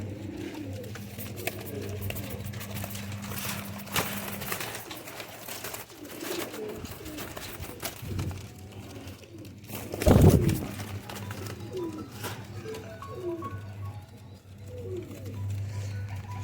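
Young high-flyer pigeons cooing at close range, soft repeated low coos over a steady murmur, with a brief louder flutter or bump partway through.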